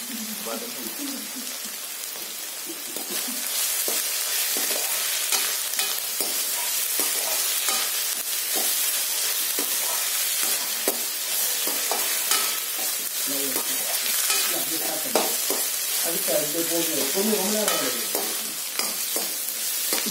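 Egg with spring onions sautéing in a pan for a burji, a steady crackling sizzle with frequent scraping stirs throughout, fairly close and continuous.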